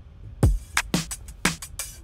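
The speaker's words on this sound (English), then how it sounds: "So the drums at this point sound like this." A sparse drum pattern: a deep kick, then sharp snare and clap hits with bright hi-hat ticks, played alone at a steady moderate tempo.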